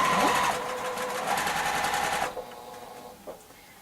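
A sewing machine runs in a fast, steady mechanical whir for a couple of seconds while stitching quilt block squares for a nine patch block. It then stops, and small handling clicks follow in the quiet.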